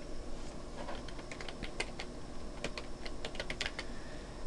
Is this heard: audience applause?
no